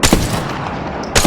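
A Longbow rifle fires in Apex Legends, with two loud sharp gunshot bursts, one at the start and another about a second later, separated by a sustained roar of echo and ambient game noise.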